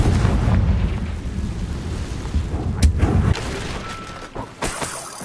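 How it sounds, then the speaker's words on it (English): A Confringo fire spell goes off in a Harry Potter video game: a loud, broad rumbling blast with crackle runs for about three seconds, then fades, and a couple of sharper bangs follow near the end. "Confringo."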